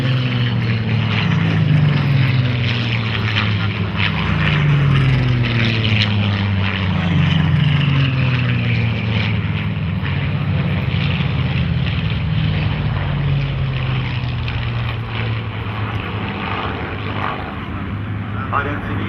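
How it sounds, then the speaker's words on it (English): Eight Spitfires pass in formation at the Duxford Flying Legends airshow, a loud, sustained propeller-engine drone with pitch sliding downward as the aircraft sweep by overhead. "So 8 Spitfires perform in front of you."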